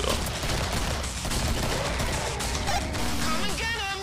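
Dense, continuous gunfire from large weapons in the co-op shooter Killing Floor, loud and sustained throughout with overlapping game sounds and whistling tones near the end.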